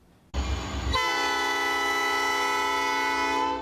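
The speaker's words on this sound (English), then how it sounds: "Usually the trains are the loudest noise in South suburban Dolton." A train in South suburban Dolton sounds its horn close by, a loud sustained blaring tone that holds steady after an opening low rumble.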